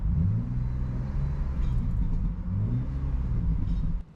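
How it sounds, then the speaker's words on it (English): A car engine idles with its valved exhaust closed, a steady, deep low rumble, fairly quiet and even throughout, with no revving. "through the click of a button I can now go from quiet or loud"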